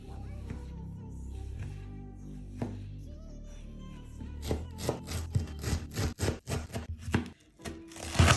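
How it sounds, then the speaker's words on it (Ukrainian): A knife chops chili peppers and cilantro on a cutting board for Thai tom yum soup. Quick, sharp strikes start after a quieter stretch with faint music in the background. "Чері ми ріжемо навпіл, а чілі та кінзу подрібнюємо."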